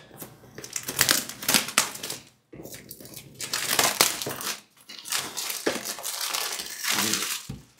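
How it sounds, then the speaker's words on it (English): Cardboard box and plastic packaging for an Intel NUC5i3RYH mini PC being unwrapped up close, with steady crinkling, crushing and rustling broken by brief pauses. "So let's get things unwrapped and take a look what's inside."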